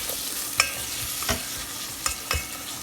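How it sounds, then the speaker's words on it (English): A spoon stirs prawn pulao inside a rice cooker, a soft continuous sizzle broken by four or five sharp scraping knocks against the pot, close up with no voices. "Stir a bit."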